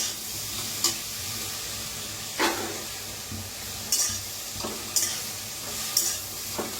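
Cluster beans (gavar) dry-roasting in a pan without oil, giving a steady soft sizzle with a few sharp stirring scrapes and clinks spaced through it, close and moderately quiet.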